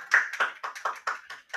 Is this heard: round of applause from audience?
yes